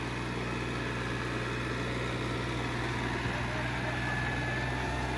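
A Mahindra Oja 2127 4WD tractor turning with a rotavator attached gives a steady, low engine drone with a constant hum, heard fairly close and unbroken, with no voices over it.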